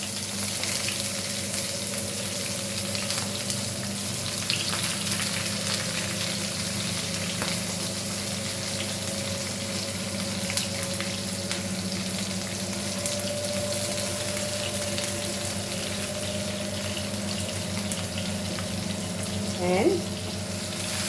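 Onions sizzle steadily in hot oil with green chilies, garlic and mustard seeds for a Goan cabbage foogath, a continuous close frying hiss with faint stirring, lasting throughout without talk.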